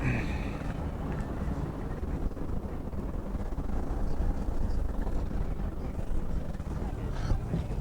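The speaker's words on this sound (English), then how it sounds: "Windier than I expected." Wind buffeting a small fishing boat at sea off San Diego, a continuous rough low rumble with gusty swells, loud and close to the microphone, with no clear talking.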